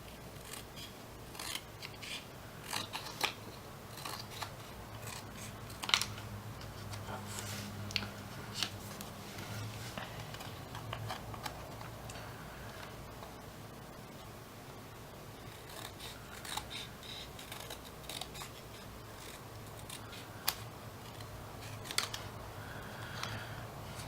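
Scissors snip through paper in a close series of irregular crisp cuts while pieces for 3D papercraft Koopa Troopa legs are cut down the middle, with light rustling and handling between snips.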